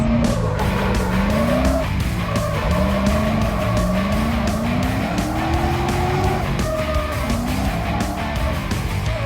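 A Jeep drifts on a closed course, its engine revving loudly and rising and falling in pitch while the tires squeal and skid continuously close by.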